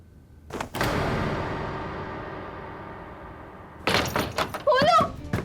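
Heavy thuds against a closed door ring out in a quick burst near the start, with a shouting voice later, set in a devotional drama episode about Bhagwan Jhulelal.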